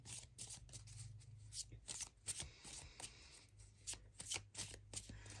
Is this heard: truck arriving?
no